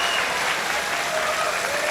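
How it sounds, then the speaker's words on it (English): Audience applause at a men's singles table tennis final rewarding a player's sportsmanship, a steady dense wash of clapping from a large crowd that holds evenly throughout. "little round of applause for him for sportsmanship"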